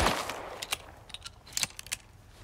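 Pistol firing incendiary rounds at a target in the game Icarus, a handful of sharp shots spaced irregularly over a low background, no talk.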